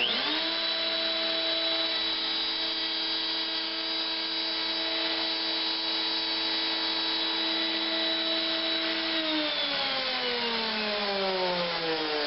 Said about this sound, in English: not changing anything else except just the height of the router bit, and we'll run it through again